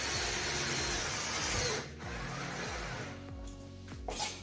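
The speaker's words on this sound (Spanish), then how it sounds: "le metemos un tornillo abajo del todo para que no se mueva" A power drill whirs steadily for several seconds while driving a screw into the base of a phenolic toilet cubicle frame, with a short dip in the motor and a brief rise near the end.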